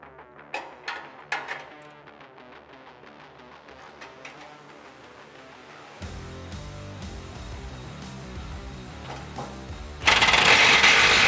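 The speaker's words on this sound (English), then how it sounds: "tighten these 2 bolts down with an 18mm socket" Ratchet and 18mm socket tightening the mounting bolts of a Smittybilt M1 steel winch bumper on a 2009-2018 RAM 1500, with close, uneven metallic clicks and clanks building into a dense, loud mechanical clatter near the end.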